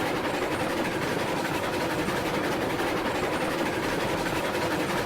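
A heavy locomotive from the train game RailRoads Online runs steadily, giving a dense, continuous low rumble with faint clattering throughout and no voices.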